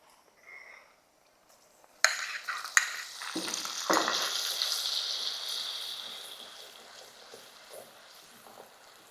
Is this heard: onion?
yes